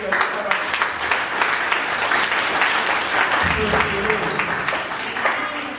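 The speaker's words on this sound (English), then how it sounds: "Let us clap." Church congregation clapping their hands together in worship, a dense, steady roar of applause filling the room for the whole stretch, with a voice speaking over it.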